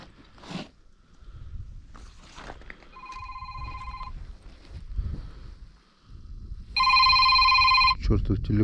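A mobile phone rings out on a frozen lake during a winter ice-fishing trip, two bursts of electronic ringing with wind noise and talk around them, the second louder and nearer.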